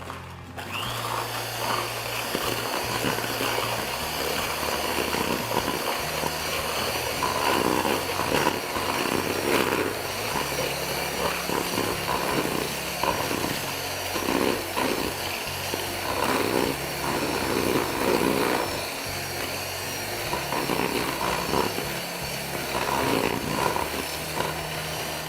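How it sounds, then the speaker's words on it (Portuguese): An electric mixer beats sugar to a creamy texture in a kitchen, giving a loud continuous motorized whir with a rough, fluctuating churning edge, close and alone. "bater na batedeira para ficar uma textura bem cremosa"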